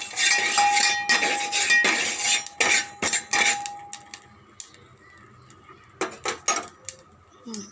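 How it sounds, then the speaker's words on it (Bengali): Black cumin seeds dry roasting in a pan without oil, sharp crackles and metallic scraping clatters in bursts, then a quieter stretch before a few more clicks. "কালো জিরাটা ভাজা হয়ে গেছে, দেখো ফুটফুট ফুটফুট ফুটফুট করছে।"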